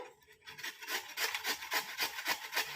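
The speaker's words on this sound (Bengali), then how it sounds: "ঘস ঘস করে ঘষে নেবে" Beetroot is rubbed on the long slots of a hand grater in quick, regular strokes, a faint, rhythmic scraping rasp heard close up with no talking.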